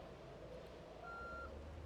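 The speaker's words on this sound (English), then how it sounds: "it has a backup noise!" Backup beeps from a vehicle reversing, a faint thin electronic tone at a distance over a low rumbling background, with no talking.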